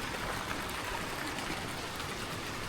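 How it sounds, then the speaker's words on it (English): Water flowing down into a river at a hot springs in Bali gives a steady, broadband rush that stays even throughout, moderately close, with no voices over it. "All this water just washes into the river."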